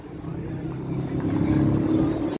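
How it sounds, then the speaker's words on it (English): A GTO car drives past on a city street during supercar spotting in Toronto, its engine rumble rising steadily and growing louder over a couple of seconds, with faint voices nearby. "Wow, that's a GTO."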